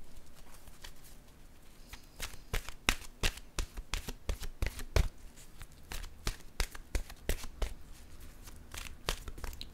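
A deck of intuitive soul oracle cards is shuffled by hand, close crisp riffling with a rapid run of sharp card snaps and taps growing busier midway, heard alone with no talk.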